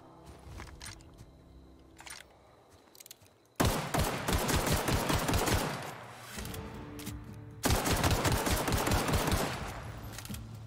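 Rapid automatic gunfire in The Outer Worlds as a player shoots at a creature near a volcano-like landscape, two long loud bursts of dense rattling shots with a quieter stretch of isolated pops before them.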